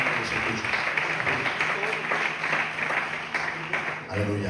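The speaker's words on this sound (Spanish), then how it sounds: "Le damos un fuerte aplauso a su palabra" A church congregation applauds during a Spanish-language sermon. The steady clapping is mixed with voices and a faint musical tone, and it stays fairly loud across the short stretch.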